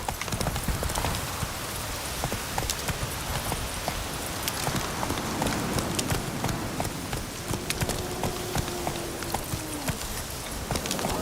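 Hooves pound in a steady, fast rhythm as a horse gallops in The Witcher 3, loud and continuous throughout, with a thin layer of rain-like ambience behind it.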